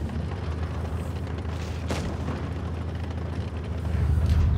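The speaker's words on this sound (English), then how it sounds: "One more shot into the T-34 and bye bye" A Jagdtiger 8.8 tank gun fires once at a T-34 in World of Tanks Blitz, a single sharp blast over a low, continuous engine rumble during a snowstorm battle.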